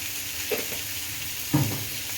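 Cumin seeds dropped into hot oil for a Telangana-style taro root masala curry, giving a steady low sizzle with two brief bursts of stirring and crackling.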